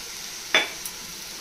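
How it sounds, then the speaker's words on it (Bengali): Banana flower (mocha) sautés in a pan with soaked chili and turmeric powder, a single sharp spoon clink against the pan over a faint, steady sizzle, close by. "এবারে এটাকে নিয়ে আমি ভালো করে কষাতে থাকবো।"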